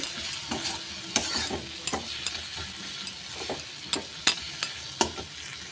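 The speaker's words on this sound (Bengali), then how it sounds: "কাশ্মীরি লঙ্কা গুঁড়ি এটাও ভালো করে মিশিয়ে নিচ্ছি" Kashmiri chili powder being stirred into dal tadka in a pan, with a soft continuous sizzle broken by repeated sharp scrapes and taps of the spoon against the pan, close and fairly quiet.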